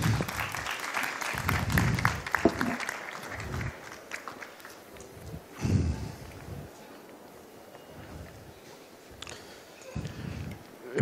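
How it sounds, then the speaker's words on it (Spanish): Audience at a cultural forum clapping in welcome for performers, uneven bursts of applause that swell and fade in waves, fairly close and moderately loud, thinning toward the end. "Démosles un aplauso de bienvenida"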